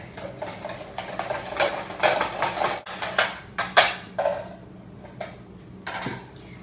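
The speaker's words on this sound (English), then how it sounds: "So take a whisk and whisk these all together." Red wine marinade whisked in a bowl for a tofu sauerbraten, a quick run of close rattling, clinking strokes against the bowl that then slows and fades, with no voices.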